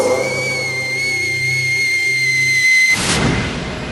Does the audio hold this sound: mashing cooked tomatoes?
no